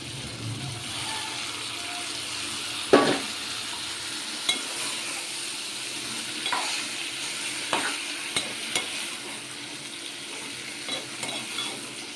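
Drumstick, tomato and raw mango curry with onion is stirred in a pan, a soft continuous sizzle broken by intermittent scraping knocks of the spoon against the pan, close and without talk.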